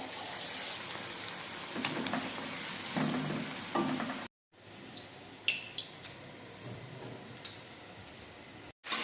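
Onion, capsicum and chilli hit hot oil for chilli cabbage, crackling and sizzling up close with sharp spatters and clinks, broken by two short silent gaps.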